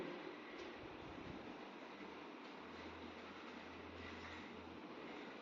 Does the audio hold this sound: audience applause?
no